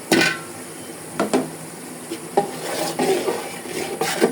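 Spoon scraping and stirring spices with tomato sauce and sour yogurt in a metal pan for chicken roast, a few distinct clanks and scrapes over a steady low rasp, close and alone.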